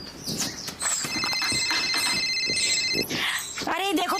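A mobile phone rings with a repeating electronic tone in a home scene, close and fairly loud, while people keep talking over it.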